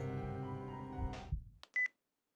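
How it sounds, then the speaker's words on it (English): A sustained tonal background cuts off, followed by a short electronic beep and a brief hang-up tone from a phone in the Chaos;Head Noah video game. "Unable to take it anymore, I hung up the phone."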